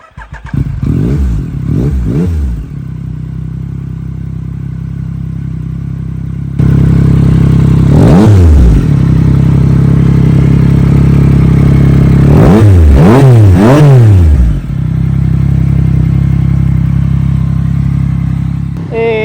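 A Yamaha MT-09 SP motorcycle engine idles steadily up close, then revs sharply several times, with quick throttle blips rising and falling over a loud, rumbling idle.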